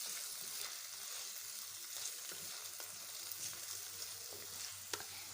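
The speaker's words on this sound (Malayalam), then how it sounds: "നന്നായിട്ട് ഇളക്കി കൊടുക്കണം. ഇനി നമുക്ക് കുറച്ച് മുളക് ചേർക്കാം." Kerala-style fish curry masala is stirred in a pan as chili is added, with a soft, steady sizzle of frying and faint scraping stir sounds, quiet and close with no talk.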